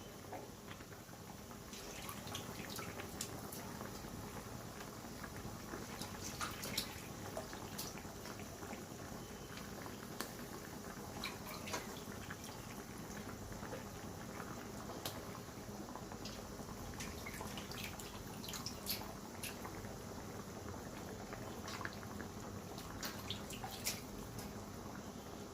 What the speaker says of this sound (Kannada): ಇವಾಗ ಕುದೀತಾ ಇದೆ.